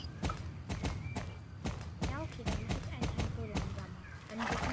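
A horse's hooves clip-clop at a steady walking rhythm in the video game Star Stable Online, crisp and close, with a voice talking over the footfalls.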